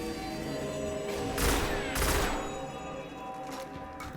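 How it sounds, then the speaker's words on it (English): Shotgun blasts in the Destiny video game during the King's Fall raid, with two or three heavy booming shots spaced about half a second apart over steady game ambience. "I forgot how much recoil Yep, shotguns 1, 2, have."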